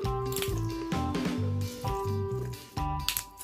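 Sticky slime stretched and squished by hand, a rapid series of wet squelches, pops and crackles close up, irregular bursts with short pauses between.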